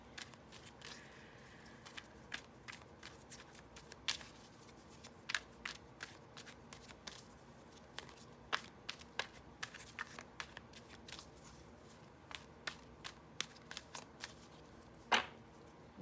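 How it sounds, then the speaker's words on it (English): Tarot cards being shuffled by hand, a close, fairly quiet run of crisp riffles and soft slaps with irregular pauses and sharper card snaps throughout, no voices. "we go ahead and shuffle these cards"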